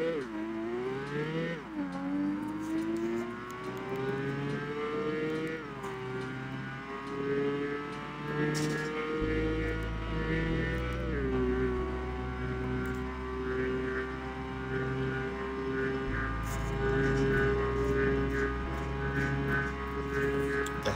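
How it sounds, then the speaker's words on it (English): A Nissan GT-R50 engine drones and revs in the racing video game Apex Racer, a sustained tone that climbs, drops with gear shifts and holds steady for a long stretch, fairly loud with no talk. "let's go drive the car actually"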